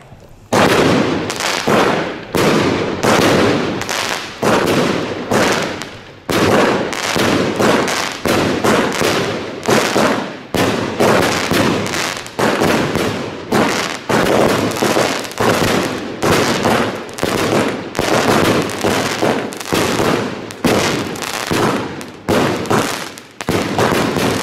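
Three Frut van Thor fireworks cakes are set off together, producing a loud, relentless barrage of rapid crackling bursts and booms that overlap continuously for over twenty seconds.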